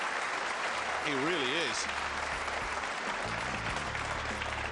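A crowd applauds at a professional pool match after a big shot, steady clapping running throughout while a commentator speaks over it.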